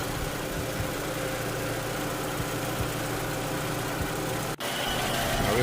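A car engine idles steadily after its cooling system has been topped up and bled, giving a constant low hum and rumble up close with no voices and only a brief dip near the end.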